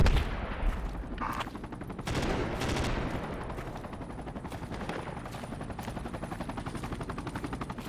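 An anti-aircraft gun hammers away in Project Reality, a fast rapid-fire stream of loud shots that keeps going almost the whole time, with a louder burst near the start.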